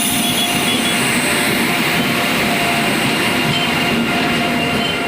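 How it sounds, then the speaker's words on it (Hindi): Steady low rumble and rolling noise from a railway train as its locomotive is reversed and moved to the other end, with faint squeals and a continuous mechanical drone at moderate distance. "लोकोमोटिव रिवर्स किया जा रहा है, इधर से निकाल के दूसरी ओर लगाया जा रहा है"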